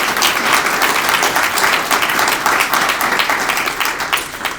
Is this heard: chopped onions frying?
no